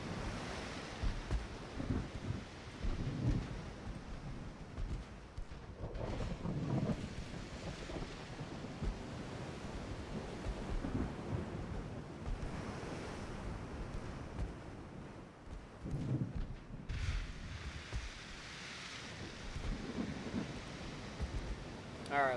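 Stormy sea in the naval video game Forge of Freedom, a sudden Mediterranean squall with steady roaring wind and surf-like wash, low rumbles suggesting thunder, continuous and loud throughout, with a brighter hiss entering near the end.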